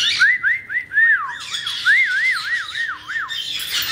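Pet birds, one of them spiky-crested, give a run of loud, close, rising-and-falling whistled squawks in quick repeated bursts, with no talking over them.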